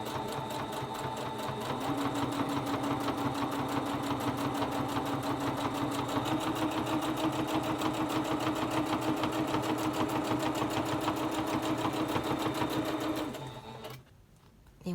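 Sewing machine top stitching the edges of a pleated fabric face mask runs in one long, steady, rapid mechanical chatter at close range, stopping abruptly near the end.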